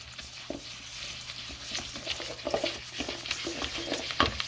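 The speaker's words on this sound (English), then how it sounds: "Stir this together." Melted butter cookie batter being stirred by hand in a bowl, a soft, irregular scraping and thick wet sloshing that repeats in uneven strokes, close and fairly quiet.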